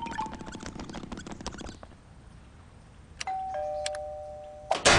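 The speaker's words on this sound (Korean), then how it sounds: "분명 초인종 소리가 울렸는데 잘못 들었나?" A doorbell rings at a home, a bright sustained electronic chime heard alone near the end after a stretch of quiet room noise and some faint earlier patter.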